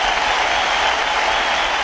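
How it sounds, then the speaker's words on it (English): Dense, steady applause from an audience at a live gaming talk show, loud and sustained throughout with no speech over it. "Let's give a hand clap."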